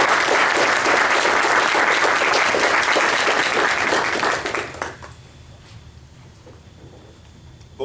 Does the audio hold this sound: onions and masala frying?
no